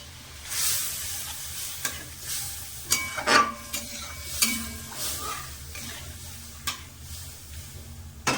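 Dal sizzles and fries in a home kitchen pan while a spoon stirs it, with scraping clinks against the metal and a steady hiss throughout, and no voices.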